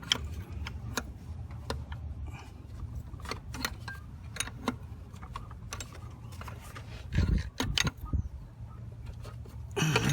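A wrench loosening a bolt on the high-pressure fuel pump of a 2008 BMW 535i gives sharp metallic clicks and ratcheting ticks at an irregular pace, with a few clunks and a low engine-bay hum beneath.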